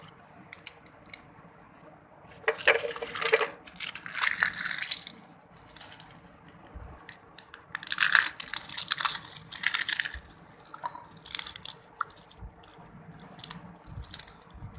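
Crispy fried puri snapped and crushed by hand over chana chaat, a series of close, crackling crunches in irregular bursts with brief quiet gaps between them.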